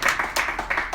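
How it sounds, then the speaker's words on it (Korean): Brief scattered clapping from a small audience at a Korean political forum, a few uneven bursts of hands over about a second. "박수 한번 치시죠."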